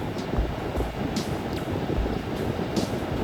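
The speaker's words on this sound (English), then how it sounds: "So we're gonna go ahead and put on the AC and turn it up to full blast" A car's air conditioning fan running on full blast gives a steady, loud, broadband whoosh of rushing air that holds even and unbroken throughout.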